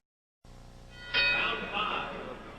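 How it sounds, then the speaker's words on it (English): A boxing ring bell, rung to start round 5 of a fight, sounds twice at moderate distance, with a sharp metallic strike followed by a second clang and a ringing decay. "The bell for round 5"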